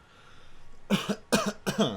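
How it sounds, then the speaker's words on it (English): Three sharp coughs in quick succession after a quiet start, close and fairly loud, with short gaps between them. "Pardon me for the coughing."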